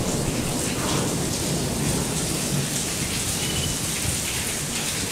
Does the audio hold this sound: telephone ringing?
no